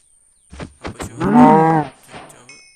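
A single drawn-out cow moo in Minecraft, loud and close, with a few short clicks and game sounds before and after it.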